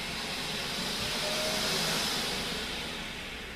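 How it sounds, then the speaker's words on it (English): A vacuum cleaner runs steadily in a home kitchen, a constant broadband hiss and whine holding at an even, fairly loud level throughout with no talking. "I have to stop the vacuum cleaner."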